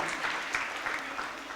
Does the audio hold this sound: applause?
yes